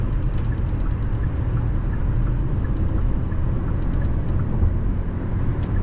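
Steady engine and road drone from a 2023 Kia Niro SX Hybrid pulling out to overtake on a two-lane road, a continuous broadband rumble with no clear rise, heard alone from inside the cabin.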